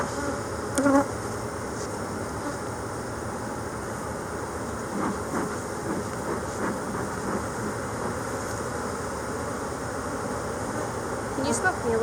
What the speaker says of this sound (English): you got a lot of bees around you?